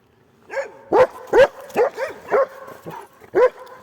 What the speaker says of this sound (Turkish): Havlıyor bize.